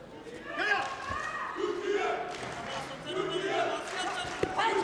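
Turkish supporters cheer in a crowd at a combat sports final, a steady roar rising and swelling under a commentator's voice.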